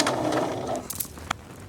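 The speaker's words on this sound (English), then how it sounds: "End with a back stitch after you've met up with the original seam." A sewing machine runs a short back stitch on a lined blouse seam, a brief soft mechanical whir that stops after under a second, followed by a few faint clicks.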